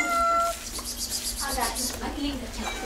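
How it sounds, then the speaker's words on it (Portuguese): A kitten meows a few times in a rural home kitchen, the cries close and moderately loud over a steady background of voices and clatter while cudiguim is being prepared. "A gatinha, tá comendo?"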